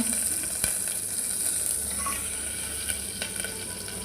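Dal chakoli mixture with green chillies sautéed and stirred in a pan in a village kitchen, sizzling steadily with soft scraping of the stirring throughout.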